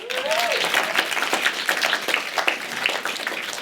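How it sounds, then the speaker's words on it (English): A library audience applauds steadily with dense, continuous clapping, a brief whistle rising at the start, the clapping sustained for several seconds. "let's give Maya a round of applause."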